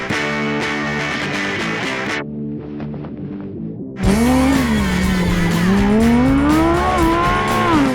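Supercars accelerating hard in a wet-weather drag race on a test track, with loud revving engines and rising gear pitches, a brief dip between runs, then another car pulling away strongly.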